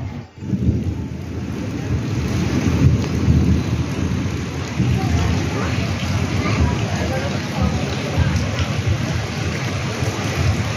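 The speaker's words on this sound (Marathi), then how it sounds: "हो मे महिन्यातला पाऊस." Heavy pre-monsoon May rain in Konkan, India, pours steadily and loudly, a dense continuous rush with deep rumbling underneath.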